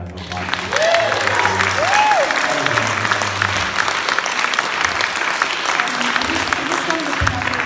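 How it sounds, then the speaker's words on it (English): Audience applause at an LGBTQ+ storytelling event, a steady broad wash of clapping sustained throughout, with faint voices and a few calls mixed in. "let's have another round of applause."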